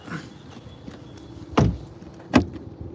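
A 2023 BMW X1 door handle is pulled twice on the locked car, giving two sharp, close thunks about a second apart over quiet outdoor background.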